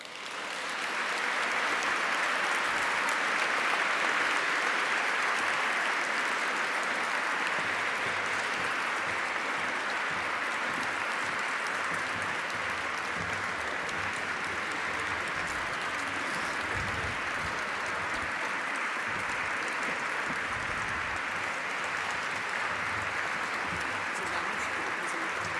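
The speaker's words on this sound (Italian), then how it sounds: "con un caloroso applauso." An audience claps warmly to welcome choirs and an orchestra at an evening concert, a dense, sustained wash of applause lasting the whole stretch without pause.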